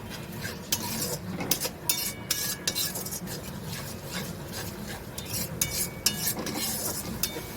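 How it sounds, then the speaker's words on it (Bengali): Ginger and chicken frying in a pan are stirred with a utensil, giving repeated close scraping and clinking strokes over a low sizzle, fairly quiet and irregular in rhythm. "এরপরে এটাকে ভালো করে নাড়াতে হবে।"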